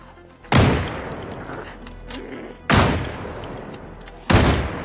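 Rifle gunfire in the video game Project Zomboid: three loud, sharp shots spaced roughly two seconds apart, each with a short decaying tail over a low background.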